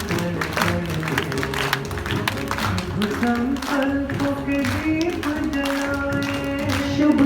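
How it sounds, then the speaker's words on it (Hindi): An audience at a Brahma Kumaris spiritual gathering claps with both hands raised, a steady, dense patter of applause under sustained music tones, continuing evenly throughout. "दोनों हाथ ऊपर करके ताली बजाएंगे, अभिनंदन करेंगे"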